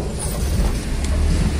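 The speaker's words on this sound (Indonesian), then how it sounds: "Ada kereta." A train rumbles past a railway crossing, a loud, continuous low roar with faint rattling that stays close throughout, with no speech.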